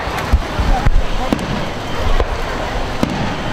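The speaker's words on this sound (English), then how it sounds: "I can see the fireworks." Independence Day fireworks burst in a string of distant booms and crackles at irregular intervals over steady crowd noise, with people talking nearby.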